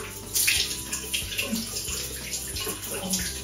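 Tap water runs steadily into a basin while a face is washed with a carbonated foam cleanser, splashing close by and without speech.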